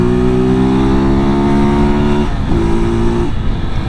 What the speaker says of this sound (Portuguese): Mano, é uma moto normal, cara. Uma motinha normal, mano. Ah, mas ela é carburador.